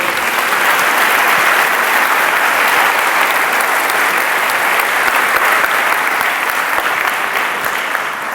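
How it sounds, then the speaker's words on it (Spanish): A church congregation gives a loud, sustained round of applause during a sermon. A dense, steady roar of many hands clapping holds strong for over eight seconds, easing off slightly near the end. "¿Cuántos le pueden dar un aplauso fuerte a Jesús?"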